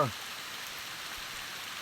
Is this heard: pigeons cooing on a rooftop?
no